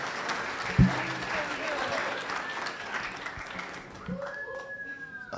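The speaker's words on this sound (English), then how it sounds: "Big round of applause for Matron of Honor," Wedding guests at Peacock Ridge clap for the matron of honor, a moderate stretch of applause with a sharp knock near the start and tonal sounds rising toward the end.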